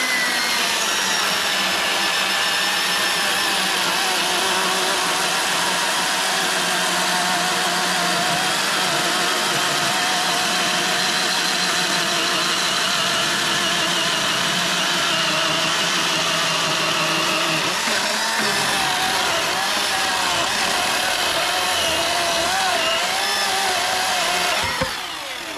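A small Milwaukee battery chainsaw runs steadily at high revs, its motor note shifting as it bites into wood, loud and close for the whole stretch.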